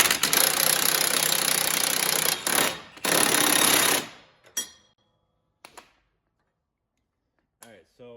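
Loud rattling bursts of an impact wrench with a 1 1/16 socket running a nut down onto a Kubota lawn mower pulley, two sustained runs with a brief pause, then short taps and silence.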